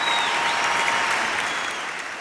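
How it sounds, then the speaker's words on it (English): Loud, dense round of applause from a crowd during a charity fundraiser stream for Ukraine, continuous enthusiastic clapping with a few whoops, steady throughout and easing off only slightly toward the end. "Let's give a little round of applause"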